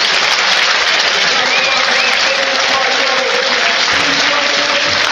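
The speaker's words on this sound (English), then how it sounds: "this will be the biggest round of applause he's ever heard from Huddersfield Town fans" Huddersfield Town fans at a football stadium applaud a substitution during a 2019/20 Championship match against Hull City, a loud, sustained wall of clapping and crowd noise filling the whole stretch.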